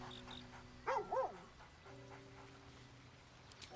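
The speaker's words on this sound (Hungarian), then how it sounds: "Ó, egy kutya!" A dog pants softly in Baldur's Gate 3, with quick breathy huffs over a low game background hum, faint and close.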